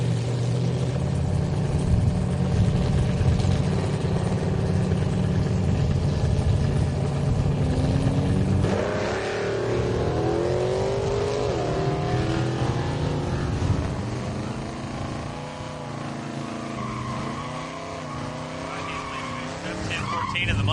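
A 1990 Ford Mustang drag car at a drag strip during Hot Rod Drag Week, a loud sustained engine roar revving and shifting before fading into the distance, with announcer talk over it.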